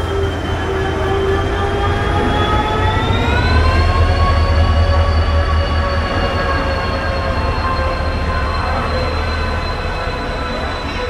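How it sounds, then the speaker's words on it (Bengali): The 12120 Barbil Jan Shatabdi Express arrives at Howrah station in the morning, a loud, steady close-range rumble with sustained wheel squeal and rising metallic tones throughout. "আর এই যে আমাদের ট্রেন ঢুকছে 12120 বারবিল জনশতাব্দী এক্সপ্রেস।"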